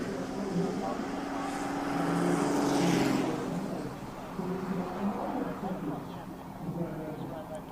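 A 1,000-horsepower Toyota race car at the Simola hillclimb roars past, its engine swelling to a loud peak near mid-clip and then fading into the distance, with outdoor crowd noise and some talk alongside.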